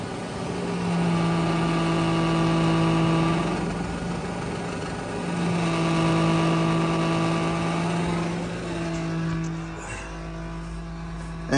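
A rear heater blower fan in a square-body Chevrolet Suburban runs on high, giving a steady tonal squeal and whine over a droning hum that swells and eases a couple of times before fading.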